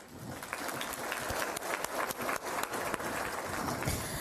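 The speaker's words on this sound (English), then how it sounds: "So round of applause to the committee." An audience at a business hall of fame event gives a brief round of applause for the committee, with steady, moderately loud clapping and a few sharper claps standing out.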